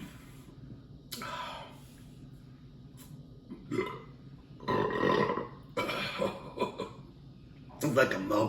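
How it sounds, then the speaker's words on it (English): Burps after drinking Deschutes Brewery The Abyss beer, several close, loud bursts separated by quiet breathing. "Like a milkshake burp."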